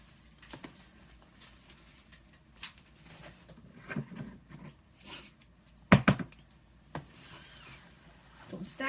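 Scissors cut through fabric meant for wrapping a tumbler, working with BT Crystalac instead of epoxy. The close, quiet rasp and rub of blades through cloth goes on throughout, with a few sharper snips near the end.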